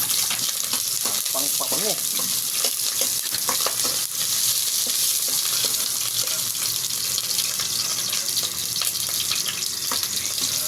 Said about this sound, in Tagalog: Mainit ang mantika. Tayo mo natin yung bawang.